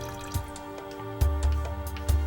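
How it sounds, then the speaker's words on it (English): Water drips and small splashes as a dinosaur model is lowered into a container of water, with a few soft plinks spread out over a steady background hum. "He submerges it in a container of water and measures how much is displaced"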